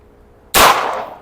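A single sharp, loud report from an Ekol Jackal Dual M92 blank pistol set to full auto rings out after a short silence and decays with a brief echoing tail.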